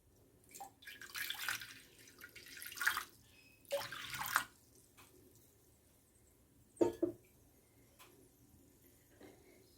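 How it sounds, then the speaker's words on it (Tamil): Water poured from a cup into a cooking pot in a home kitchen, a few short splashing bursts separated by quiet pauses, close and fairly soft. "ஒரு கப் அளவு தண்ணி எடுத்துக்கலாம்."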